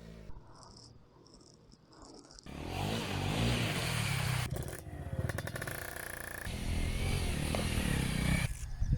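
A Honda CRF250 Rally dirt bike engine roars and revs hard, loud and close, with rising and falling pitch after a quieter opening with insects and faint voices.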